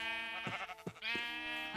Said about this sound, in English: Hi there, sheep.